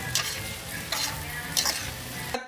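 Bihon rice noodles being stir-fried for La Paz batchoy, a dense close sizzle broken by a few bursts of tossing and scraping in the pan, brief and with no voices.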